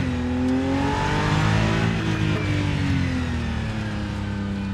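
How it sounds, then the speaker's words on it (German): A BMW M4 engine in the Rennsport racing sim pulls steadily with clear rising and falling harmonic revs, loud and continuous throughout with no talking. "Rennsport ist die erste Simulation, in der mir der Motorsound vom M4 am besten gefällt"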